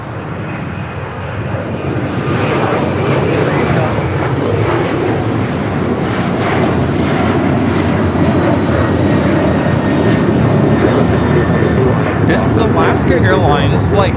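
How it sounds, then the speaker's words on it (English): A Boeing 737-800 airliner takes off at LAX, its engines a loud, continuous roar that holds steady and builds slightly over about fourteen seconds. "Airlines Flight 6 taking off to Washington Reagan National on the 737-800 in the Honoring Those Who Serve livery"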